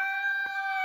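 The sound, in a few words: roosters crowing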